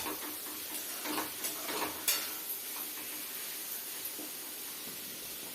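Beetroot and onion sautéing in a pan give off a soft, steady sizzle with faint crackles and a few brief clicks. The sound stays low and even throughout, and nobody speaks.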